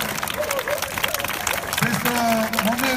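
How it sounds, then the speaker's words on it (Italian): Applause at a live outdoor broadcast of a town running event in Orvieto, steady crowd clapping running under a loud announcer's voice. "un grande applauso da Orvieto"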